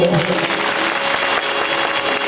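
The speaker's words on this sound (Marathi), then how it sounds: "चाललेला कार्यक्रम पुन्हा कुणाला आवडला त्यांनी जरा टाळ्या वाजवा" An audience claps in sustained, dense applause at a gondhal devotional folk performance for Yamai at Rashin. The clapping is loud and continuous, with a voice audible over it.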